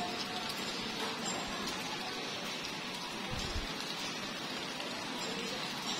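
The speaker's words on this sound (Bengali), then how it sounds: "যে গাছপালার উপর বৃষ্টি পড়ছে" Steady rain falls on garden plants and leaves, a dense, continuous patter of drops heard up close with no talking.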